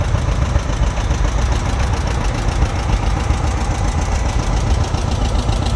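A 1957 John Deere 720 propane standard tractor rolls by in a threshermen and collectors show tractor parade, its two-cylinder engine chugging in a loud, steady, rhythmic putter close by.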